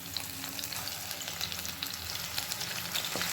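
Ground onion paste sautéing in hot oil with cinnamon, cloves and green chillies, a steady close sizzle with light stirring scrapes running throughout, no voices.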